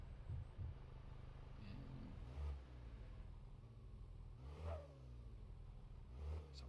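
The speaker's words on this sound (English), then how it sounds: "this is a turbocharged car that's not doing too healthy" A turbocharged Mayen M5 runs rough in Car Mechanic Simulator, its engine heard faintly at a low rumble with several short revs swelling and falling back.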